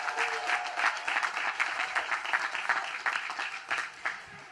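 A large commencement crowd in South Carolina applauds the newest U.S. Army second lieutenants, with steady, dense clapping that carries on without a break throughout, moderately loud and slightly distant.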